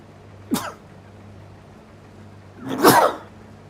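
Two human sneezes close to the mic, a short sharp one followed by a longer, louder explosive sneeze, over a quiet background hum.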